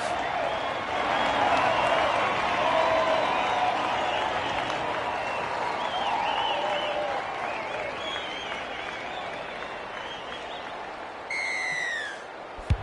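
A vocal rugby crowd applauds and cheers after a successful conversion kick, a broad sustained roar of clapping and voices that slowly fades, with faint whistles near the end.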